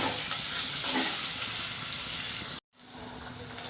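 Two medium onions sizzle steadily in hot oil as they fry toward reddish brown, a continuous close hiss broken by a brief drop to silence before the sizzle resumes.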